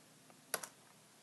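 A couple of quick keystrokes on a computer keyboard, two close clicks, faint and alone in a quiet room.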